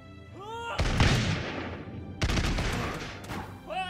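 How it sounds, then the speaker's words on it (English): Musket volleys in the battle game Totally Accurate Battle Simulator, two loud crackling bursts of overlapping gunfire, each trailing off into rumble, with brief tonal game sounds before and after. "Let's use these muskets. Yeah, still firing."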